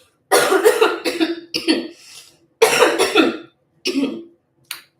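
Someone coughs several times in quick, harsh bursts close up, with short silent gaps between the fits.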